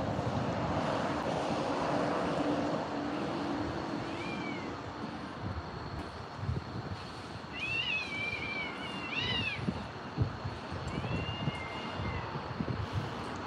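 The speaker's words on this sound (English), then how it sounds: "it might not sound good to you, but that cat is meowing" Cats meowing and yowling outdoors, their drawn-out rising and falling cries coming in several separate bursts over steady background noise and a droning low rumble like a passing aircraft.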